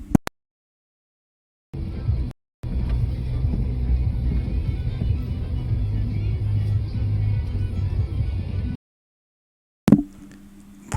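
A car rolls slowly at about 7 km/h across frozen lake ice at an ice-fishing village, giving a low steady rumble for several seconds. The sound cuts off briefly and then returns.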